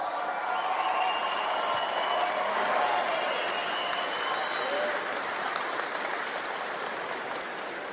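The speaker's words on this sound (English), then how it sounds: "please, round of applause for Carl Lovett, IBEW" A rally crowd at a Conservative political event in Windsor, Ontario applauds Carl Lovett of the IBEW, a broad, even roar of clapping with a few scattered cheers, steady and fairly distant throughout.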